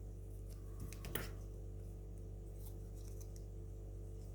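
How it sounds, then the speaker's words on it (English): Scissors snip through paper while trimming a Japanese paper doll junk journal card, a few quiet cuts clustered near the start over a steady low hum, then mostly stillness. "I need to actually cut it down a bit more"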